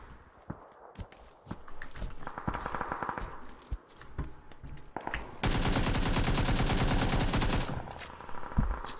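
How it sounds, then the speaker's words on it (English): Full-auto AK rifle fire in a shooter video game, a long sustained loud burst after scattered earlier shots and clicks, ending abruptly near the end. "So this is how I got really good at full autoing."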